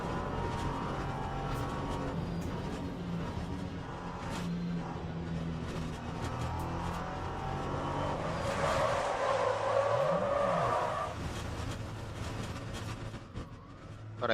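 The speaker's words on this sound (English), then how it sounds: "Burnt a bit of tire there." An LMP3 race car braking hard at Sebring, its engine roaring steadily while the tires squeal briefly in a rising and falling chirp near the middle. The car sounds close and fairly loud.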